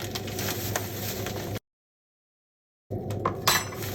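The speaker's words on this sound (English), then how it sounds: "Next, I'm gonna put 1 spoon of oatmeal for the protein." A spoon scooping oatmeal into a protein shake with yogurt, giving soft clinks and scrapes against the container, cut by a silent gap before more clattering and a brighter clink near the end.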